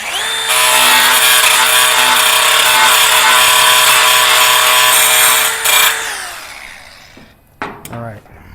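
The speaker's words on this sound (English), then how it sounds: "Grind it a little more." Angle grinder working metal on a 1966 Mustang, a loud, close, high whining grind held steady for several seconds before spinning down, followed by a few brief scraping touches.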